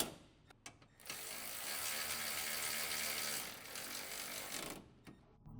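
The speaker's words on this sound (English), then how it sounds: "Use the medium 10mm shallow socket with the electric impact wrench to tighten down the bolts" An electric impact wrench fitted with a 10mm shallow socket runs a steady, rapid hammering burst for about four seconds while tightening the mounting bolts on a car's radiator cooling fan assembly, close and alone, with a few clicks before and after.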